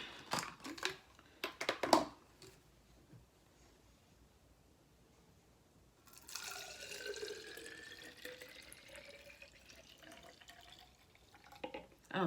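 Black rice water pours in bursts into a plastic spray bottle, trickling and splashing, with pitch rising as the bottle fills; crinkly handling noises around it.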